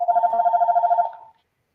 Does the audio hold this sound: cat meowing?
no